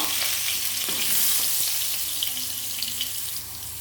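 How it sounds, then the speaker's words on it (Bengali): Potato pieces fry in hot oil with a steady, dense sizzle that holds loud and even throughout, with a few small pops and stirring scrapes beneath. "তেলটা গরম হয়ে গেছে, এর মধ্যে আমি প্রথমে আলুটা ভেজে নেব, তার জন্য দিয়ে দিলাম আলু।"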